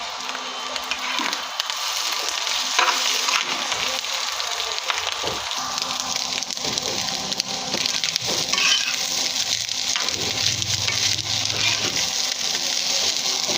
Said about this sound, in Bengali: এবার আমি ডিমটা দিয়ে একটু ভেজে নিচ্ছি।